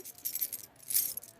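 Keys jangle in two short bright bursts of metallic clinking, close and fairly quiet, at an airport security checkpoint.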